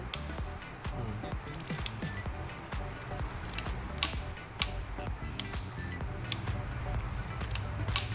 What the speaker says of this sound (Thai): อันนี้กดชัตเตอร์ปุ๊บนี่ปล่อย ไม่ลั่นเองนะครับ